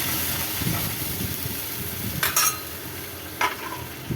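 A spoon scrapes and stirs through thick tomato paste in a pan over a low sizzle, with a couple of sharp clinks against the metal.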